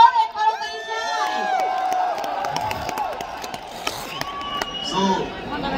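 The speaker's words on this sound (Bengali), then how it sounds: "একটা জোরে করতালি চাই" A large crowd at an event in Qatar for film star Shakib Khan bursts into loud clapping with high whoops and whistles, the din of cheering holding steady throughout.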